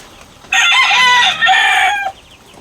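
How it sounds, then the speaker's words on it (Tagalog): A white Kelso rooster lets out one loud, close crow lasting about a second and a half, with brief clucking around it, against a quiet farmyard background and no talking. "itong ating mga pullets na white kelso"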